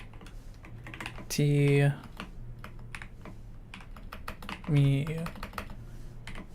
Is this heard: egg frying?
no